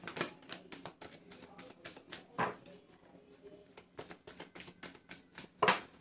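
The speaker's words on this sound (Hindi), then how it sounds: "This is my last shuffle, जिसको आना है आ सकता है।" A deck of angel guidance cards gets shuffled at close range, making quiet rapid riffling clicks in quick bursts with a few louder flurries.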